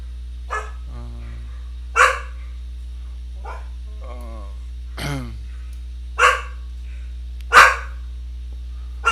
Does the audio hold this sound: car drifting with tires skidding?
no